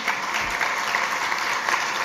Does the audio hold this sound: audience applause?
yes